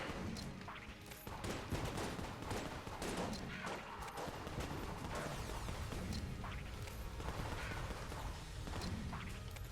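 Rapid gunfire from the Finished Gun in the video game Enter the Gungeon, a dense, crackling fusillade of shots with quick bursts and whooshes layered over steady game noise.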